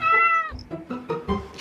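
A small cat gives one clear drawn-out meow up close, followed by soft rustling and faint shuffling noises.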